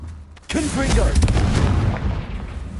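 Confringo blasting spell explosion in Hogwarts Legacy: a single heavy, close boom that bursts suddenly and then rumbles and crackles away over a couple of seconds.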